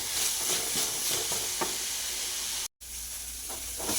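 Onions sautéing with salt and cumin in a pan, a steady close sizzle with occasional stirring scrapes, briefly cut by a short silent gap.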